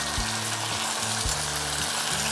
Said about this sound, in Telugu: ఆయిల్ వేసుకుని సన్నగా చాప్ చేసుకున్న అల్లం వెల్లుల్లి పీసెస్ ఫ్రై అయిపోయిన తర్వాత